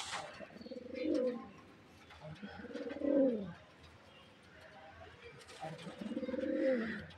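A pair of old Madras pigeons in a loft gives three rising-and-falling throaty coos at a steady interval, close and fairly quiet, with faint chirps in between.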